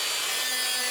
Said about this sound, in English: Thought I'd show you me cleaning up a little bit on my Dremel